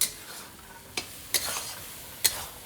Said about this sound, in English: You can give it a stir.